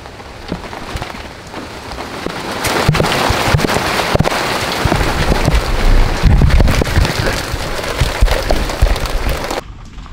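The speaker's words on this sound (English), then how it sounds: "Under the rain, under mid-hurricane, I had to put these things to hold on the weight so the silicone can stick." Heavy rain pours down during a hurricane, hammering a car and surfaces nearby with dense, continuous splatter while gusts of wind buffet the microphone, building louder midway and then cutting off abruptly.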